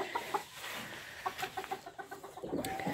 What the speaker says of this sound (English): So that's bantam sized cuckoo silkies.